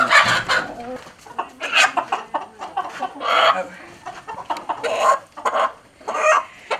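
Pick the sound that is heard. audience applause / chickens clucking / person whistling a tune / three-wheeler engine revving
chickens clucking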